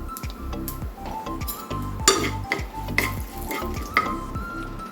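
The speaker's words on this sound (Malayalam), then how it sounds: "കുറച്ച് മുളക് പൊടി ഞാനൊന്ന് ചൂടാക്കുന്നുണ്ട്" Chili powder being heated in a pan for a cucumber pulissery curry, with a steady sizzle and frying hiss broken by repeated metal spoon scrapes and light clinks against the pan.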